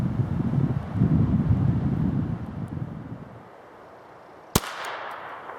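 A Ruger 22/45 Lite pistol fires a single sharp, loud shot outdoors, cracking abruptly after several seconds of wind rumble and faint background noise, then leaving a brief lingering tail.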